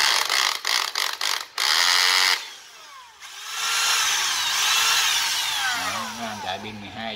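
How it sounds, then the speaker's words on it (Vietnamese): A Black & Decker 12-volt cordless battery drill runs in bursts, a harsh high whirring motor cut by short starts and stops, then a long winding spin that sweeps up and down, with a low rhythmic rattle at the end. "Chạy pin 12 cho nên nghe tiếng máy nó dữ ha."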